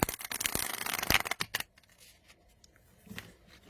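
A deck of The Unfolding Path tarot cards is overhand shuffled, giving a dense run of close, crisp cardboard flicks and slaps for over a second before it thins to a few soft, scattered rustles.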